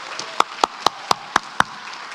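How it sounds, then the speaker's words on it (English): Six sharp hand claps land close on a microphone at a steady, even pace, each a loud distinct crack over a low room murmur at an academic conference meeting. "I apologize for clapping into the mic."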